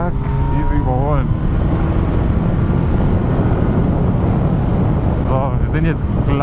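A Yamaha R1 motorcycle limited to 48 PS revs through an overtake at night, engine climbing in rising pitch sweeps at the start and again near the end over steady road and wind roar, with someone talking.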